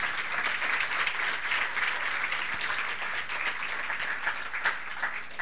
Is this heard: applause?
yes